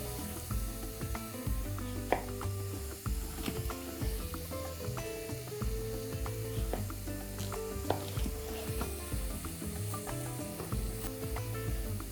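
Carrots frying in a pan, a soft continuous sizzle with faint stirring scrapes, quiet and without talk.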